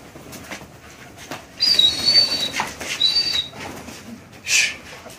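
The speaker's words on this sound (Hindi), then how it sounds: "तो आप देख सकते हैं हमने कबूतर खोल लिए" Pigeons released on a rooftop take flight in several quick bursts of flapping wings, close and fairly loud, separated by quieter moments over a soft background hiss.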